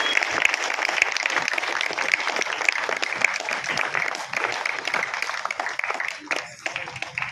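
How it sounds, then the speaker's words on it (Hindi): Audience applause at a felicitation ceremony, where guests are welcomed with garlands and bouquets at an NHM employees' union gathering; steady dense clapping runs throughout, thinning slightly toward the end, with some voices mixed in. "जोरदार तालियां बजती रहनी"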